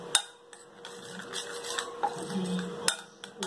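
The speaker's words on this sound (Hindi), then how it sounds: "अब इन तमाम चीज़ों को हम मिक्स कर लेंगे अच्छा सा।" A spoon clinks and scrapes in a bowl while yogurt is mixed with white cumin, curry leaves and oil, with sharp taps near the start and end and soft stirring between, close and quiet.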